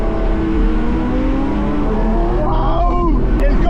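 A Corvette's engine roars loudly and steadily alongside other cars at a busy, chaotic spot, rising in pitch near the end, with people talking and exclaiming over the noise.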